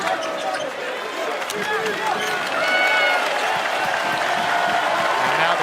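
A college basketball arena crowd at a West Virginia versus Texas game roars and cheers continuously, with sneaker squeaks and ball bounces from the court and a commentator talking over the noise.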